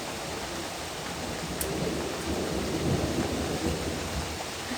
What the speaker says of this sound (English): I let the thunder have her little moment.